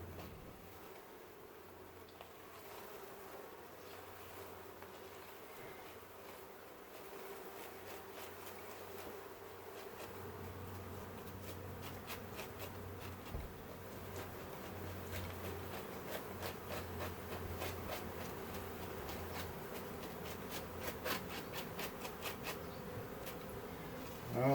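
Soft, steady droning buzz of many honeybees in an observation hive, fairly quiet and continuous, with faint scattered taps and rustles growing slightly busier later.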